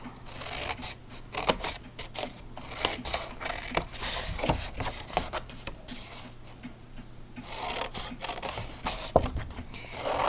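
Blade trimming the edge of a handmade box, giving a steady run of soft rubbing and scraping cuts with sharp ticks scattered through, close and moderately quiet throughout.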